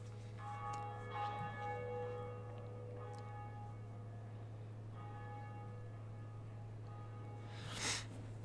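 A large bell tolling in the video game Dark Souls, with several soft ringing strikes over a steady low drone and a louder burst near the end, heard alone without talk.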